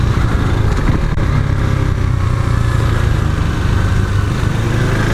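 Steady, loud engine note from a KTM Duke 390 motorcycle as it accelerates, the drone continuous and close for the whole stretch with no talk over it.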